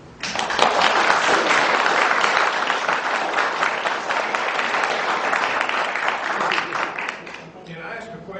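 Audience applause breaks out at a sheriff debate, a loud dense clapping that swells quickly, holds for several seconds, then thins out toward the end.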